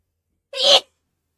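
A single short, sharp human sneeze, close and loud, bursting out of silence and ending just as quickly.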